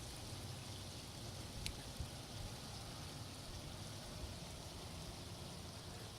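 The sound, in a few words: rain falling outdoors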